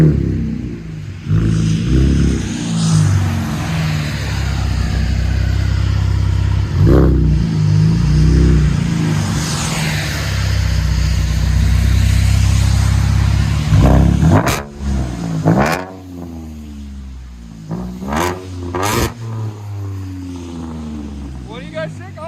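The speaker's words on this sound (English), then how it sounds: "Vibrant exhaust." A 2013 Chevy Camaro V6 with a manual gearbox and Vibrant true dual exhaust with bottle resonators revs loudly and close. It gives repeated rising and falling throttle blips with a deep droning growl, and sharp short revs come near the end.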